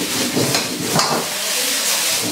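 Tomatoes and scrambled eggs, seasoned with sugar, salt and vinegar, are stir-fried in a wok, giving a loud continuous hiss broken by a few scraping strokes.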